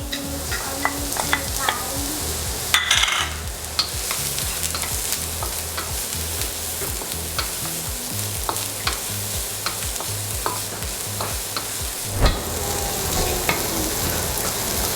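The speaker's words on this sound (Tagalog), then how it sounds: "Mag-isa na tayo ng onion and garlic." Onion and garlic sizzle and fry in a pan while a utensil stirs and scrapes repeatedly, with occasional sharper clinks, continuous and close.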